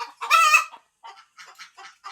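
A rooster or chicken clucks close by, a loud opening call followed by several shorter, broken clucks in a quick uneven series.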